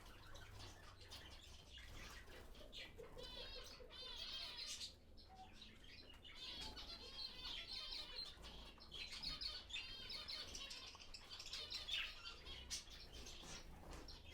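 Zebra finches and budgies in an aviary keep up a dense, steady twittering of overlapping chirps and tweets, with occasional squawks and wing flutters, and no voices.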